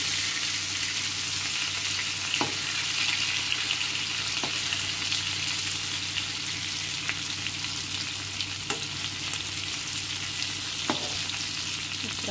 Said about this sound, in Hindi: अब ये परवल में भी हम ये बना रहे हैं इसको भूज लेते हैं लाल करके